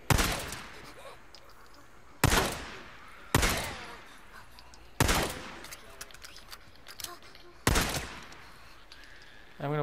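Gunfire in the video game Days Gone: six sharp, loud bursts of shots spaced a second or two apart, each with a short ringing tail, followed by clanking mechanical sounds between them.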